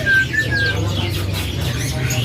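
Bright song of an eastern songbird (cucak timur), a few whistled and chirping phrases over a steady low hum of background noise.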